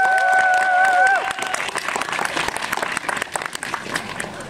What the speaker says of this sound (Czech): Nyní potlesk pro ještěra.